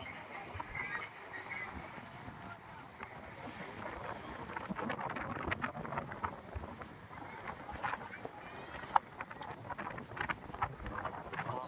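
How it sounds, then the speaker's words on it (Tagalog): Strong wind gusts along the Manila Bay shoreline at Dolomite Beach, a faint, steady roar with rustling and buffeting against the microphone, fairly quiet throughout. "napakalakas ng hangin"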